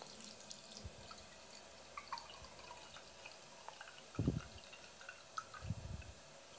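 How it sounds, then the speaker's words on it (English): Water runs from a tap into a cup in a couple of short, quiet splashing bursts indoors, with faint drips and handling noise between them. "I'm gonna fill it up with water now."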